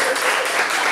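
A room full of people breaks into brief, dense applause at an event, a loud, steady patter of many hands clapping.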